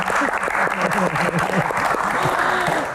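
A crowd at a public Q&A session with Indonesia's health minister breaks into applause; loud, continuous clapping with a voice speaking over it the whole time.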